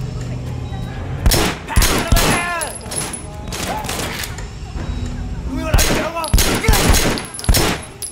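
Gunfire in the Sleeping Dogs video game comes in loud bursts of several sharp shots with ringing tails, clustered around two volleys separated by a quieter stretch, with a voice speaking beneath.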